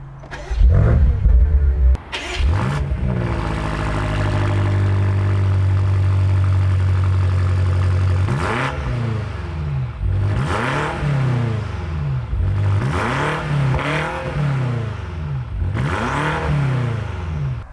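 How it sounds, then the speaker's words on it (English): A 2022 BMW M8 Competition Coupe with a 617 hp engine cranks and roars to life with a loud flare, settles into a droning idle, then lets out four or five strong, evenly spaced revs heard up close. "So let's go ahead and start the car so you can hear how this car sounds like."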